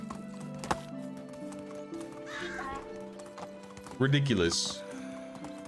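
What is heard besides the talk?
horse hooves while riding in video game Medieval Dynasty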